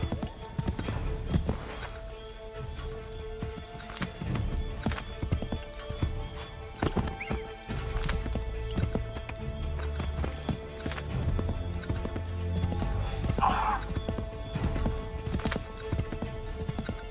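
Horse hooves clip-clop at a fast, steady rhythm in Assassin's Creed 3, loud and close over game music, with a brief whinny partway through and no talk.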